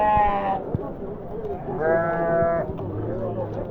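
Sheep at a livestock market give several loud, close bleats, each a wavering cry, with crowd noise and voices murmuring underneath.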